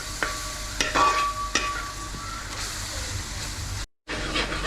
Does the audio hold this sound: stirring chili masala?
yes